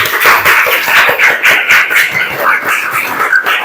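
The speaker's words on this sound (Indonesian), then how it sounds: "Tepuk tangan. Tepuk tangan dulu." A group of pupils in a classroom claps hands together, loud, close and slightly uneven, with sharp overlapping claps continuing for several seconds.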